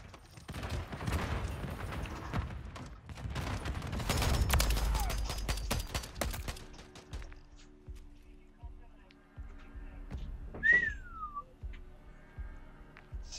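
Noob tube grenade explosions go off repeatedly on the Shipment map in Call of Duty Modern Warfare 3, a dense cluster of booming blasts and gunfire that thins out into scattered pops, heard under someone talking.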